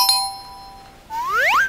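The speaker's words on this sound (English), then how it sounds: "Please don't forget to ring the bell" A bright electronic ding sounds once as a subscribe-bell notification chime, followed by a quick rising, sparkling swoosh flourish; clear and close with no talking.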